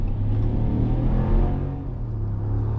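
A 2021 Ram 1500 Rebel pickup with a 5.7-liter HEMI V8 accelerates hard, its deep engine roar building and swelling with rising revs, heard loud and close from inside the cab with no talking.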